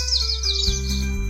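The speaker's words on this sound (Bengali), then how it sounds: "পাখির ডাক যেন এক গ্রামীণ সরল জীবনের ছোঁয়া।" Birds chirp and tweet in repeated bright bursts near a pond at a rural resort in Nijhum Polli, steady and fairly close, with a low continuous hum underneath and no talking.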